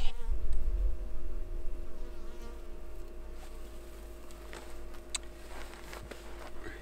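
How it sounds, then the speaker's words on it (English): A steady insect buzz hums close by throughout, droning with a constant tone over soft outdoor background noise and occasional light clicks. "Yeah, bees are still around."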